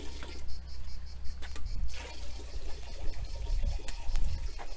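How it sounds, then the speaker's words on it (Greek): Mineral spring water from a sour-water spring runs and splashes as it is poured to drink, a steady outdoor trickle with intermittent louder splashes and some background rumble. "Για πάμε όμως να βάλουμε λίγο νεράκι να πιούμε."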